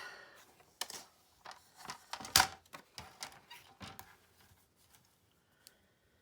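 Cardstock trimmed for a slimline card, a series of sharp, close clicks and short crisp cuts in an uneven rhythm, then settling to near silence.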